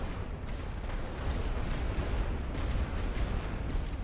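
Artillery fire on a World War I Western Front battlefield in The Great War: Western Front, a continuous heavy rumble of distant shell blasts and booms, steady and fairly loud, with no voices.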